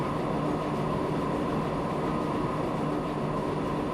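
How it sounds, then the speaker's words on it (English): Ae 4/7 electric locomotive running in a Transport Fever rail simulation, a steady rumbling rolling noise with a faint hum, continuous and even, no talk. "Our first electric train."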